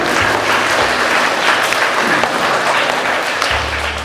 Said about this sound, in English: Let's give a good round of applause for them.